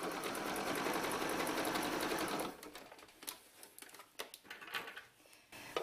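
A home sewing machine runs a zigzag stitch through denim for a purse made from blue jeans. It drones steadily for about two seconds, then stops, and a few sharp clicks and handling taps follow.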